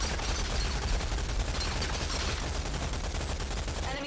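Sustained gunfire from a Rogue Company 2v2 tournament match, with a dense, continuous rattle of rapid shots and bursts, loud and close, running the whole time with no talk over it.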